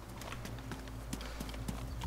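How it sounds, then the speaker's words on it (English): Hooves clatter in a video game as goats run, a quick irregular patter of clip-clop steps over a low steady background, fairly close and with no talk. "I think it's a goat."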